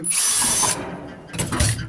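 A power drill bores a hole through a metal patio or garage gutter: a loud, steady high-pitched whine lasting most of a second, then a short pause and a second, briefer burst of drilling.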